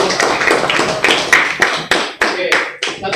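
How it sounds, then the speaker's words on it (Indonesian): Classmates clap for the first group in a classroom, about a dozen sharp, separate claps spaced unevenly and close by, with a little talk underneath. "tepuk tangan untuk kelompok pertama"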